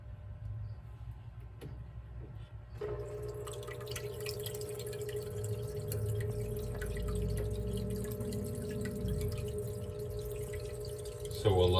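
A small water pump in a croc skink enclosure starts up and runs with a steady, even hum, joined by faint dripping and trickling water throughout.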